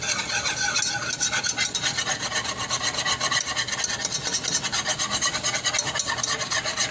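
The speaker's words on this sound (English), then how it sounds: "3 tablespoons of flour. Just whisk that up really, really good." Flour being whisked in a pan over medium-high heat for a Thanksgiving dinner: a steady, continuous scraping and stirring rasp, close and fairly loud, with faint sizzling underneath and no talk.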